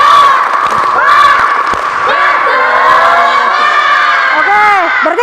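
Children in a school pencak silat PE class shout and cheer loudly after a rhythmic spirit-clap chant, with sharp claps near the start and voices overlapping throughout.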